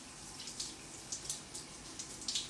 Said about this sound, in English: You can see my face is actually in the water, and I'm using the water and the fingertips